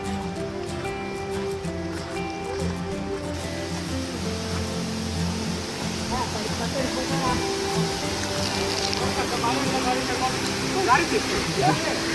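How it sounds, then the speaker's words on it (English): Sarugudu waterfall: a broad, steady rush of falling water fills the whole clip, loud and continuous, with people talking over the roar. "Wow, what a waterfalls!"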